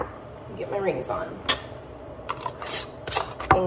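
Metal canning rings being fitted onto hot glass jars of Dijon mustard in a home kitchen, a series of close, sharp metallic clinks and scrapes in irregular bursts, with quieter handling rubs between them.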